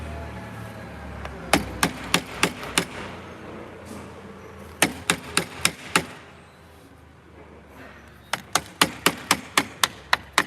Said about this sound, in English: Just kind of start chiseling away.